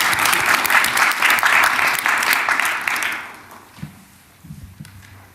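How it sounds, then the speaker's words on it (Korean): Audience applause at a national economic growth strategy report meeting with government officials, loud and dense for about three seconds, then quickly fading to a few scattered claps and quiet room noise. "박수 한번 칠까요?"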